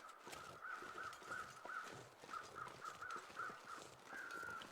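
Crows cawing in the snowy wilderness of the video game The Long Dark, a series of faint, distant caws in irregular bursts over a low wind-like background.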